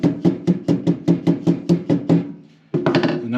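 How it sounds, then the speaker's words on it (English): A dead blow hammer taps a press-fit seal on a beach buggy wheel hub: about a dozen quick, evenly spaced thuds, close and fairly loud, then a brief pause and a final flurry of taps. "Little tap with the dead blow hammer."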